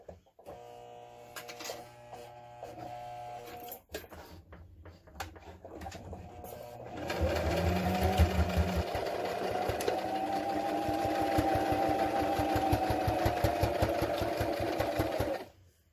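A sewing machine stitching a thick, multi-layered fabric surgical mask with elastic, with a few short bursts of the needle before a steady, continuous run of rapid mechanical stitching close by.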